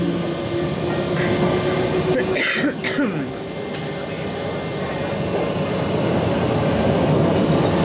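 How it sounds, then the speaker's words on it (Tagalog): A passenger train riding through Europe, a loud steady low rumble and rattle from inside the carriage with a faint whine, a brief cough or throat clearing partway through. "Bibilis naman ang train dito."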